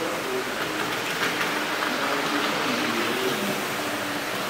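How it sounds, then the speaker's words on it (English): A model passenger train of the Mineral Wells Midland line runs on track at an outdoor garden train show, a continuous rolling rumble with a faint hum, steady and moderately loud, with no talking. "And there's the Minerals Midland passer train."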